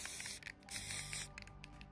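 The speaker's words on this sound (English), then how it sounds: "We then gave our base a thorough spray with Citadel Chaos Black spray paint" Citadel Chaos Black spray paint hisses from a can onto a base of cork and sand in a few close, bright bursts with short gaps between them.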